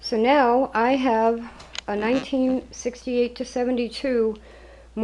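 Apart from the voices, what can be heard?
No everyday noise stands out behind the speech.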